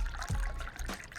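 A short, soft trickle of green tea being poured in the Dave the Diver game, a brief liquid dribble heard faintly with no talking.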